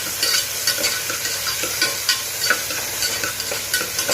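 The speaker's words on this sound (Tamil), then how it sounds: "தக்காளி போட்டு 2 வதக்கி விடுங்க." Chopped onion and tomato sauté in a hot pan for pasta, giving a steady close sizzle with soft, regular scraping stirs, and no voices.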